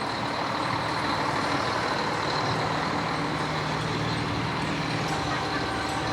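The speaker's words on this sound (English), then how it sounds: "We have the ambulance and a tanker truck" A volunteer fire company's ambulance and tanker truck roll past in a small-town Christmas parade, a steady broadband rumble of heavy engines and street noise filling the whole stretch, loud and continuous with a faint beeping tone above.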